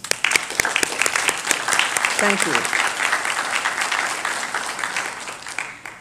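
A round of applause from the audience at a white coat ceremony lecture, dense clapping that starts strong and fades gradually toward the end, with a brief spoken thanks partway through.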